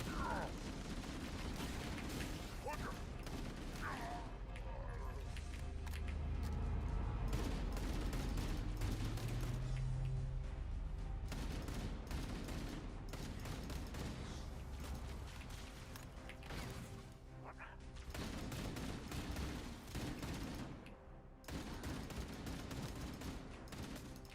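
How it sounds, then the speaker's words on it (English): Assault rifle fire in Halo 1, as sustained automatic bursts with mechanical clatter and creaks under a dense, loud game soundscape, with a few short gaps and a voice talking over it. "Ultra long range weapon, the Halo 1 assault rifle."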